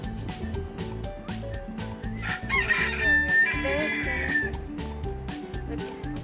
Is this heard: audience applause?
no